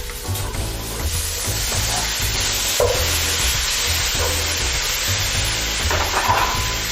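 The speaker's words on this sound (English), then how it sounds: "Then I give my beef a stir." Beef with tomatoes, curry powder and paprika sizzles steadily in a pan while being stirred, a continuous frying hiss with a few soft scraping strokes, close and fairly loud, with no talking.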